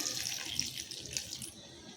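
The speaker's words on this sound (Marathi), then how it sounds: "आता आपल्याला ह्याच्यामध्ये थोडं पाणी घालायचं आहे जास्त नाही एक कप होईल एवढंच पाणी घालायचं आहे" Tap water runs steadily into a pot, about a cup's worth, for cooking wild ambadi (roselle) greens before they go into a pressure cooker; a continuous, fairly close splashing stream with no talk.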